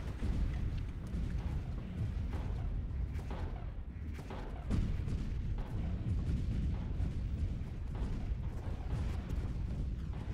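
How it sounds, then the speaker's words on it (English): Hyperion missiles firing in the space strategy game Stellaris, a dense rumbling barrage of overlapping booms and blasts that rolls on continuously with shifting intensity, loud and without talk. "Those are Hyperion missiles that are great against shields."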